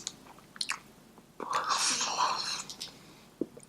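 Someone chews a tough bite of food up close, moist smacking and crunching in irregular bursts with a longer stretch of noisy mouth sounds in the middle.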